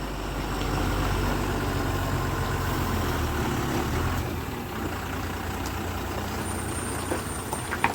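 Truck reversing at a hairpin bend on the Karul ghat mountain road: a steady, low engine idle and rumble close by, with a faint air brake hiss and brief clicks near the end.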